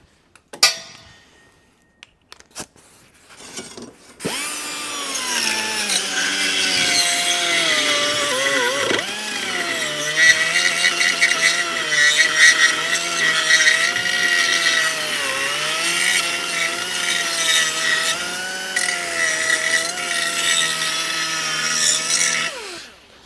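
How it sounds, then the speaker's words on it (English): A die grinder smooths the metal of an exhaust X-pipe for an Audi S4/S5, its high whine rising and dipping in pitch as it bites and eases off the workpiece, loud and close for about twenty seconds. "a little fettle with die grinder"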